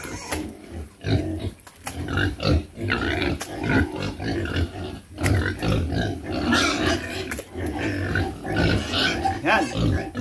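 Four large pigs grunt and snort busily at feeding time, close and loud in a rapid, uneven stream of guttural grunts and squeals.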